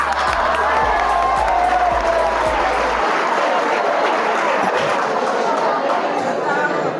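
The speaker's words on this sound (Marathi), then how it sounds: "मोठ्यानं टाळ्या वाजवा." College students at an NSS camp clap and cheer loudly as a crowd, a continuous roar of applause mixed with shouting and chatter that stays strong for about seven seconds.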